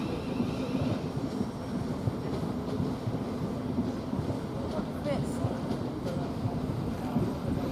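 A Thameslink train runs through Three Bridges railway station, a steady, rumbling rush of wheels and carriages heard fairly close the whole time, with people talking nearby.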